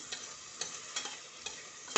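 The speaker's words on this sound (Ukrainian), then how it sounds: "Обсмажимо цибулю" Chopped onion sizzles in a soup pot as it fries for a zucchini soup, with a steady hiss broken by a few sharp stirring taps at a moderate distance.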